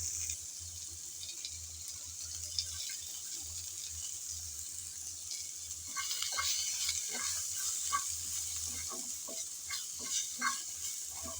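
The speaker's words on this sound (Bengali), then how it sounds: "প্যানের মধ্যেই পেঁয়াজ কুচি ভেজে নেব" Chopped onion and garlic fry quietly in a pan that holds only a thin film of oil, a soft, steady sizzle with occasional stirring scrapes and no voices.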